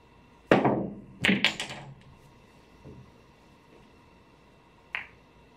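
Cue striking the cue ball in a billiard masse shot: a sharp click followed by a few quick ball knocks, then a faint late tap, in a quiet room.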